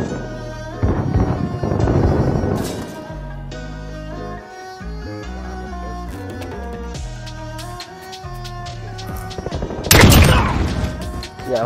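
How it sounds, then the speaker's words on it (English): Gunfire in the video game Call of Duty Modern Warfare 2019 mixes with game music and booms as scattered shots and explosive bursts, loud and near, heaviest around the middle and end. "Getting shot there."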